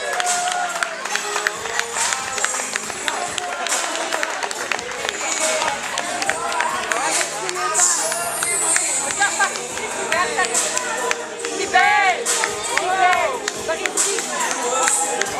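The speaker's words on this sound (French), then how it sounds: "On peut l'applaudir, hein." Audience at a fashion show in Saint-Denis applauding and cheering a model on the runway, a dense crowd sound of clapping, whoops and chatter that holds throughout, with voices talking over it.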